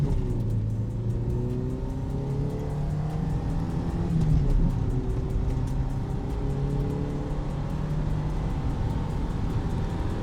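A Renault Twingo, an older small city car, accelerating flat out from 0 to 100 km/h, its engine droning steadily from inside the cabin, the pitch rising repeatedly through the gears with brief dips at each shift.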